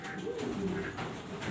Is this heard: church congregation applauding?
no